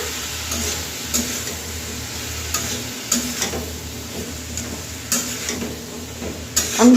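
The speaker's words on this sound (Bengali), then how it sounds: "এবার কুচিয়ে রাখা সবজিগুলো দিয়ে দিলাম" Chopped vegetables fry in a hot pan with a soft, continuous sizzle, broken by several sharp scrapes and taps as a spoon stirs them, close and fairly loud.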